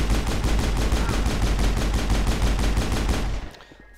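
Rapid, loud gunfire from Mass Effect combat, with a Krogan and a squadmate using shotguns: dense repeated blasts continue steadily for about three seconds, then cut off abruptly into quiet.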